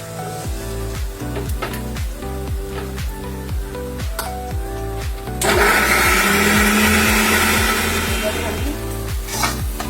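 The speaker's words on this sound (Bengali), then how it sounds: "ততক্ষণে আমি এটা গ্রাইন্ড করে নিচ্ছি" An electric grinder whirs through a spice paste of garlic and onion for a katla fish kalia, starting with a steady motor drone and rising to a louder, harsher grinding about halfway through. Background music plays throughout.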